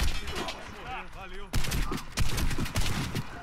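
Rapid bursts of gunfire from the online shooter Warface, PvP match, crack out in quick clustered volleys after a brief lull, loud against someone talking over the game.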